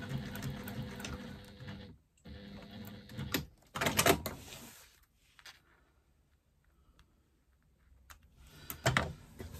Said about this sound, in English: I'm now going to do a second line of stitching that is 1/4 inch away from the edge of that connector.